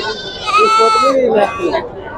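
Goats at a livestock market in Pebbair bleat loudly several times in quick succession, wavering cries overlapping near the listener with farmyard noise beneath.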